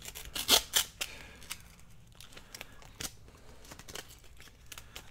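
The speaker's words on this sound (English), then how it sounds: "Now I'm going to cut that bad part off of there." Scissors cut through an old hardcover book cover with a few close, crisp snips and crunching sounds, followed by quieter scattered rustling of the material. No voices are heard.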